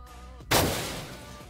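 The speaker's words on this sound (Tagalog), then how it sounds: "Maririnig ko naman ang baril niya." A single sharp gunshot in the video game Rules of Survival: a loud, sudden crack followed by a short decaying tail.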